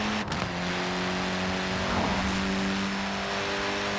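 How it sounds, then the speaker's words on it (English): Mini Cooper S engine in Forza Horizon 4, a steady, close engine drone with a low hum throughout and a brief rev near the start, heard alone. "The Mini Cooper S was built to be a performance machine with deeper engines, twin carburetors and front disc brakes."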